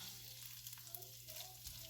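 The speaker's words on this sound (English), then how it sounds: "The butter sizzling and the juices sizzling could be a little bit deceiving." Butter and meat juices sizzle in a hot pan, a steady close hiss and crackle with small pops, continuous and without voices.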